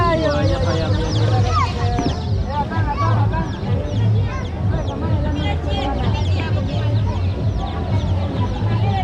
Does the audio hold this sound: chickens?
yes